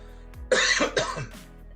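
A single close, harsh cough in two quick bursts, followed by a short throat-clearing rasp.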